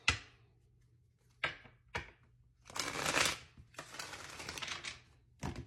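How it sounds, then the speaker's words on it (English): Tarot cards shuffled by hand at close range in a few quiet bursts: short riffling snaps, then a longer rustling shuffle and a final flick, with no talk. "I just want to shuffle real quick, guys, and then we'll grab the cards."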